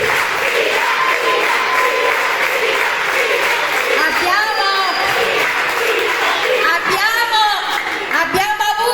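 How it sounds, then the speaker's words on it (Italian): Audience at a Neapolitan school end-of-year show applauds and cheers loudly and steadily for the full stretch, with crowd voices and shouts mixed into the clapping. "Devo ringraziare ovviamente Lina, a lei un applauso fortissimo."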